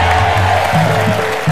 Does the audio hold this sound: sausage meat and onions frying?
no